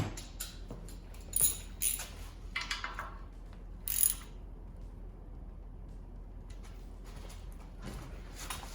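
A hand ratchet clicks in quick irregular bursts while turning the back oil pan bolts on an iron engine block, then goes quiet before a few faint clicks.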